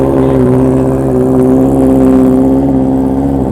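A Honda CB650R motorcycle engine runs loud and close through its exhaust with a steady, throaty drone and very little change in pitch.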